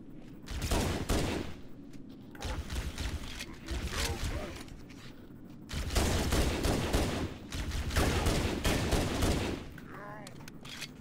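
Rapid bursts of weapon fire in the shooter game Halo Anniversary, clustered in loud volleys with brief lulls, layered with game sound and a voice talking throughout.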